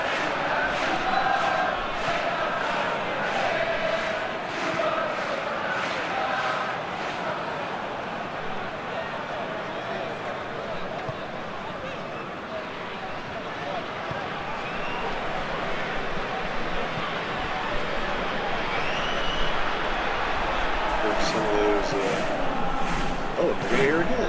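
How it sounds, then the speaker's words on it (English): A football video game mod with a chant pack, Genoa's Stadio Luigi Ferraris crowd for Serie A against Napoli: a distant, sustained stadium crowd wash with chanting and rhythmic pulses, steady throughout and rising slightly toward the end. "Some of those crowd chants from Luigi Ferrari, the chant pack, one of the many features of this mod."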